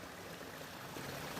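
A backyard pond's water spills down a step into a small waterfall, a faint, steady rushing flow with no voices.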